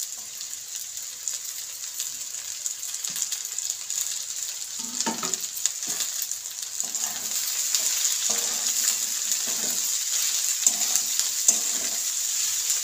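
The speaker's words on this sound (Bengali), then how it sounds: "পেঁয়াজটাকে আমি কিছুটা ভেজে নেব। এবার এতে আমি ক্যাপসিকাম আর বাঁধাকপি কুচি দিয়ে দেব।" Chopped onion, capsicum and cabbage sizzle steadily in a hot pan for homemade egg chicken chowmein, with a spoon scraping and stirring through the vegetables now and then. The frying hiss grows a little louder toward the end.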